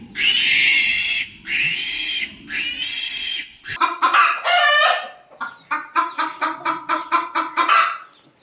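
Chickens sound off in a farm coop in the rain: three long, drawn-out crowing calls come first, then a rapid series of loud, close clucks and squawks. No one talks.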